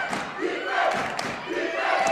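The home crowd at a York women's college basketball quarterfinal against Baruch cheers and shouts loudly in a sustained roar that swells and surges, with no commentary over it.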